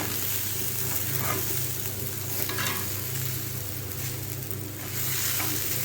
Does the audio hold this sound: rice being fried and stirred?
yes